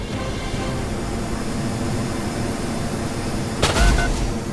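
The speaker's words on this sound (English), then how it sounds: "first missiles coming off are launched by the Falx. It looks like AIM-9Xs" AIM-9X missiles fired by the Falx in a combat video game, under a steady roar of broadband noise, then a sudden whooshing launch burst near the end that swells and fades.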